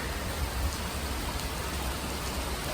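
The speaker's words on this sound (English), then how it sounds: "It's raining." Steady rain pours down outdoors at Notre Dame during a lightning storm, a dense, even hiss of drops hitting surfaces nearby with no let-up.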